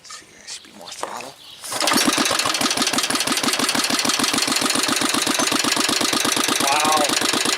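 A Manco engine coughs through a cold start, then settles into a loud, steady, rapid running chug with rhythmic firing pulses that carries on to the end, after a few brief starting sounds.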